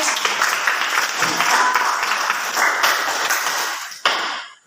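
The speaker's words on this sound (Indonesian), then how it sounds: "tepuk tangan buat Shelly" A classroom of students claps for a classmate after a poetry reading, brisk, uneven hand clapping that runs steadily for several seconds before stopping abruptly, with a brief final clap trailing off.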